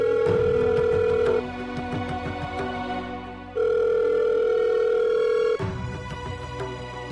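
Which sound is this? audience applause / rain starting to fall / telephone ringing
telephone ringing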